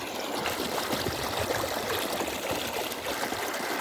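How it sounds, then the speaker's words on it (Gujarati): Water runs along a channel in a farm field being readied for wheat, a continuous close trickle and babble with soft gurgles, steady in level and with no voices. "પાણી ચાલુ છે આ રસ્તામાં."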